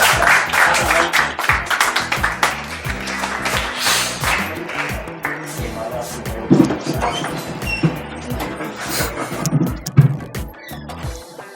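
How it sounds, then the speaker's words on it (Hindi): An audience applauds at a poetry stage event, strong bursts of clapping that swell, then thin into scattered claps and crowd noise with dull knocks toward the end. "जोरदार तालियों से"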